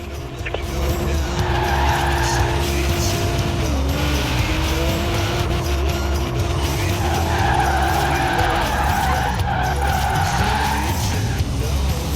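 Car tires skid and squeal through a long drift in the video game Forza Horizon 4, with engine noise holding steady and loud for the whole stretch and a voice talking over it at times.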